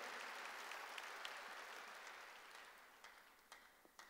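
A church congregation breaks into sustained applause, a broad steady clatter of many hands that slowly fades toward the end, with a few sharper claps standing out.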